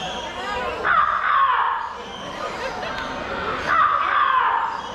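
A talking bird mimics a rooster crow, giving two drawn-out, wavering calls about three seconds apart, close and fairly loud over a faint background murmur.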